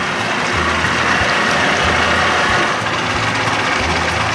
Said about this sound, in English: I love the way this motor sounds. With them crazy new carbs.